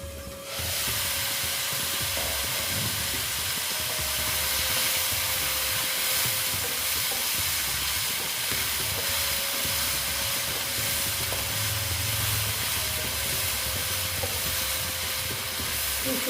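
Potatoes and soybean chunks frying slowly in a covered pan, a steady broad hiss that holds evenly throughout with a faint low hum beneath, no voices.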